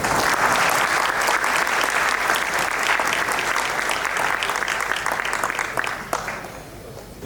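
A crowd at a wedding reception in Perth claps loudly and steadily, the dense applause holding for several seconds and then thinning out near the end.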